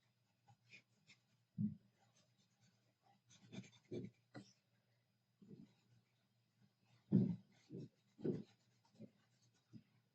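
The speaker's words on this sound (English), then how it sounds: "I'm just going to kind of enhance that with the black charcoal pencil" Black charcoal pencil on paper in a chalk pastel drawing, faint scratchy strokes arriving in short irregular bursts with quiet gaps between them, close and soft against a low steady hum.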